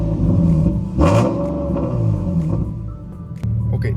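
A car engine revs hard with a freshly repaired exhaust leak, one sharp throttle blip rising out of a steady rumbling idle, close and loud, then settling back to a deep idle.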